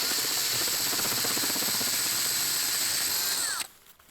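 A power drill whines continuously at close range, loud and steady, drilling into a rib, then cuts off abruptly near the end.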